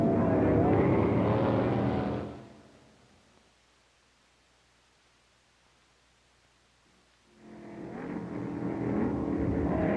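1968 Can-Am race cars at the Stardust Grand Prix in Las Vegas running under a caution flag, a loud engine roar passing, then a quiet gap before another car's engine swells back in.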